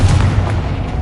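Confringo explosive spell blast in Hogwarts Legacy, a loud booming burst with a rumbling low-end decay lasting about a second, heard alone without talk.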